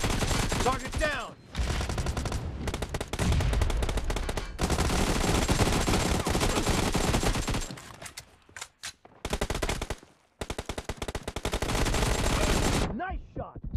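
AKM assault rifle fire in a first-person shooter video game, loud rapid automatic bursts that stop and start, with short gaps and scattered single shots toward the end.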